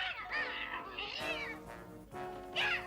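Cartoon cat meowing and caterwauling from a Smurfs episode, several drawn-out, wavering yowls close up and loud, with tonal music running underneath.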